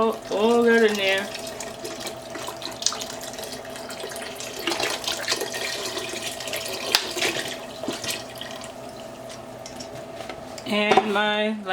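Leftover chicken broth pours into a cooking pot in a continuous liquid splash and trickle, with a steady background hum and a person's voice heard briefly at the start and end.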